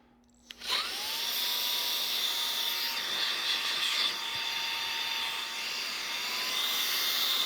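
A Houscly handheld rechargeable car vacuum switches on after a click and runs as a blower, giving a loud, steady high-pitched whir that holds nearly unchanged for several seconds, with no talking.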